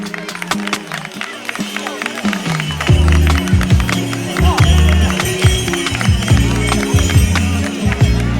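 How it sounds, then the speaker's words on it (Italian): Crowd applause at an outdoor horse race in Lanusei, a steady wash of clapping under a loud, continuous male announcer's commentary. "Applauso, te lo meriti tutto, per te è l'applauso del pubblico di"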